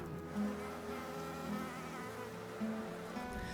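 Honeybees buzzing close by, a steady droning hum with a few louder passes swelling and fading as individual bees fly near, with no voices.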